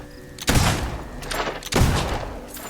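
Two loud gunshot bursts roughly a second apart, fired at cardboard targets in the Fable II video game, each followed by a short rumbling tail.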